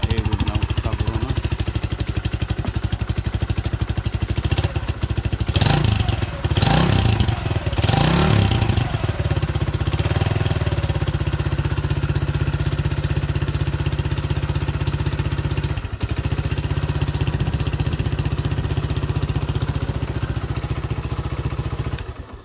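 A cafe racer motorcycle, left sitting outdoors under an old cover, starts up and runs at a steady, loud idle with a few sharp revs early on, close by and continuous throughout.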